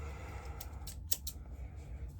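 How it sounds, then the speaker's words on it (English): Scissors snipping through costume material, a few quiet, crisp cuts grouped close together near the middle, over faint low background hum. "And you want to take some scissors."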